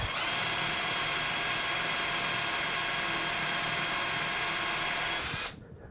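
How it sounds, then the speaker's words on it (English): A power drill whirs steadily and loudly at close range for several seconds while boring into a wooden broom handle, then cuts off abruptly. "we're going to go ahead and drill a hole about 2 inches up from the end of our broom handle"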